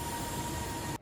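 A passing freight train at a station platform, a steady rumbling roar with a faint high tone that cuts off sharply at the end.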